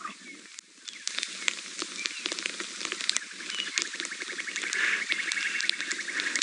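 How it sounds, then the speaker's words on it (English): A young leopard on safari, having left a carcass and calling for its mother, gives small, faint, cheetah-like squeaks at intervals over a busy background of patter and bird calls. "every now and then he's letting out this little squeak, and he actually sounds more like a cheetah than a leopard"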